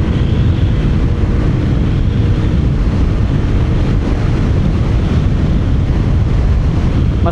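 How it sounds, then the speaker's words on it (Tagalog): Steady, loud wind roars continuously in an open area while riding a Yamaha XMAX scooter, buffeting with a broad rushing noise and no pauses. "Mas malakas na naman yung simoy ng hangin dito sa Santa. Open area kasi dito"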